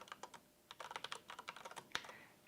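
Quiet, close keystrokes on a computer keyboard as a password is typed, a quick irregular run of clicks with short pauses and one sharper tap near the end.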